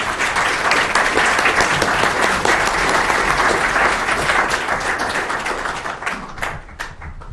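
Lecture-hall audience applauding the keynote speaker at a talk on the crime of aggression, steady loud clapping from a crowd that tapers off toward the end.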